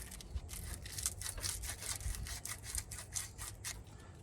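Rolled-up sandpaper turned by hand against a car battery terminal, making a faint, repeated scratchy rasp in quick rhythmic strokes for a few seconds.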